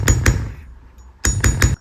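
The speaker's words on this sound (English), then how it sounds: "Let's hammer it real quick to make sure it's nice and strong." Hammer blows flattening a wire-wrapped Art Deco style earring: three sharp metallic taps in quick succession, a pause, then three more, close and loud.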